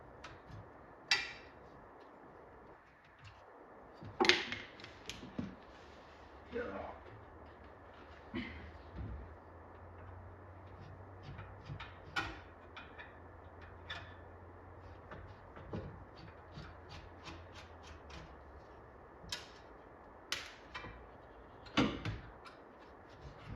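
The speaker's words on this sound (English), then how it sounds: "we're going to take the 3 Phillips screws out from in the door. Actually using a flathead because it works." Sparse clicks, ticks and light scrapes as a flathead screwdriver backs three Phillips screws out of the door of a Kickman arcade cabinet during restoration, over a low steady hum with no talking.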